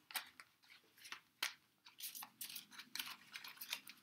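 Pokemon trading cards being shuffled by hand, quiet irregular riffling and snapping clicks in quick bursts, close and faint with no talking.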